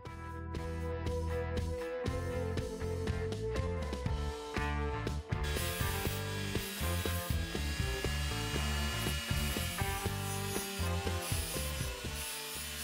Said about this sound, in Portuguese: Usando a micro retífica, deixei os terminais expostos para poder soldar.